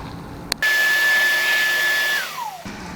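Vacuum cleaner in a garage snaps on with a click and runs as a loud, steady high-pitched whine, then winds down in pitch as it is switched off near the end.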